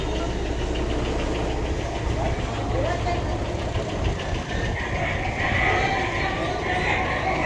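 Bus engine idling at the Vijayapura central bus stand in the early morning, a steady low rumble with a knocking beat and a busy station murmur around it.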